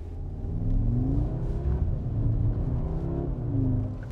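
An Audi S3 in comfort mode, its exhaust droning steadily while driving, with two rising surges of revving over a constant low rumble, close and fairly loud.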